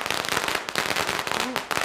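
A string of firecrackers going off close by, a loud, dense, continuous crackle of rapid pops that runs for the whole stretch.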